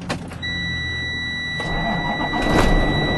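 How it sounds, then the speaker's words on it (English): A truck engine starts with a brief cranking whir, then catches into a steady idle that lasts to the end, with a high whine running alongside it. "Gotta start this truck up"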